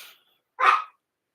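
One short, sharp dog bark sounds close and fairly loud in an indoor room, set apart by near silence before and after.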